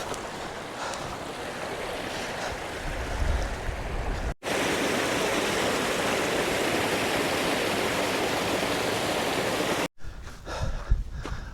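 A mountain river rushes over rocks at a hiking crossing in the Lake District fells, a steady, loud broadband roar of flowing water close by, briefly cut twice by gaps in the recording.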